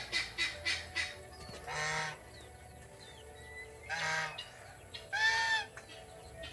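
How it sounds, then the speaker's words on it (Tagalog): Three loud goose honks at spaced intervals, each a short harsh blast, over a quiet outdoor background with faint bird calls. "So yung ating gansa nakawala."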